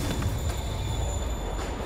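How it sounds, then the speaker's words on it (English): A moving train in the video game Marvel's Spider-Man Remastered, a steady loud rumble of rolling wagons with a faint high squeal above, continuous and close. "Train's moving."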